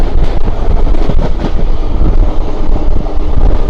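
Krishna Express train rolling past close by, a loud continuous rumble of rail cars with wind buffeting and faint rhythmic clatter, no voices.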